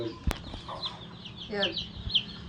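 Day-old chicks peep in short, high chirps, several scattered cheeps close by amid light handling noise and a sharp knock.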